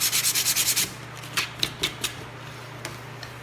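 Sandpaper rubs by hand over a sealed MDF wood surface in a quick run of about eight even strokes, then a few scattered lighter scrapes, close and clear over a low steady hum, with no talking.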